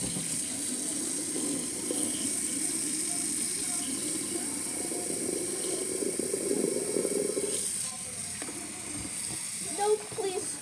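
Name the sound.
running water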